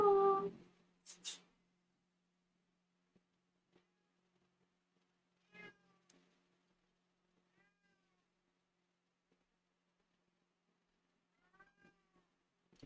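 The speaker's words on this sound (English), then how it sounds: "It's the cat." A house cat meows near the start, a couple of short calls, followed by a long quiet stretch with only faint scattered sounds.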